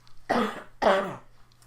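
Two harsh coughs, one after another about half a second apart, close and fairly loud in a quiet room.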